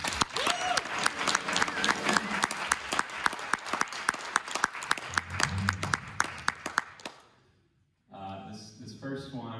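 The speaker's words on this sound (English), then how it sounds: "how about another round of applause for Leo and Phil's group, huh?" Dense audience applause at a community college jazz ensemble concert fills the room for about seven seconds, then fades out and a voice begins talking.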